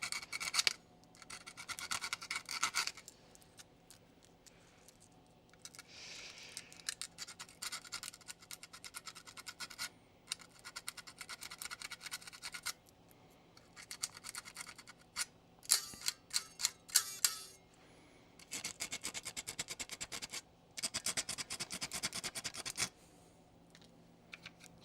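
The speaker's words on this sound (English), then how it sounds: "So let's see if we can just sand that off." Sanding the center post of a Game Gear console, scratchy back-and-forth rasping in irregular bursts separated by short pauses, close and fairly quiet.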